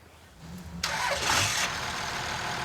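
A diesel mini truck engine cranks and catches at a drag race, its start bursting out abruptly and settling into a steady, loud rumbling idle close by, with no talking over it.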